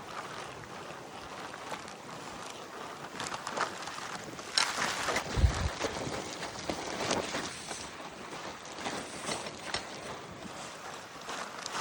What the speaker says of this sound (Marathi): वारा आता आज जबर वारा